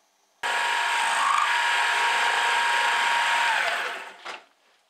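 A drill with a reground two-flute bit cuts into the wood of a corner bench seat, running steadily and close for about four seconds before spinning down and stopping.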